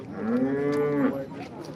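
A single long, loud cow moo at a cattle market, low and drawn out with a rising then falling pitch, close by, followed by fainter background noise.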